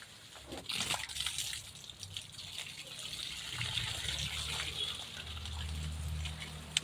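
Water poured repeatedly over a person's head in an outdoor garden setting, a continuous splashing gush with sloshing that runs steadily throughout.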